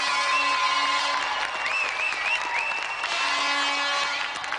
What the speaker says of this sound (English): So let's have another round of applause for Andy Thompson and our special guest, Ric